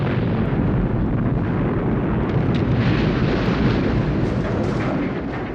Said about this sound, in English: we're treated to an explosion so big at the end,